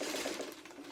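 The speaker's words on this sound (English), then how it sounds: "You're covering the smaller area with your sewing machine" A sewing machine stitching fabric for a Drunkard's Path quilt block gives a faint, steady rapid whir, heard alone.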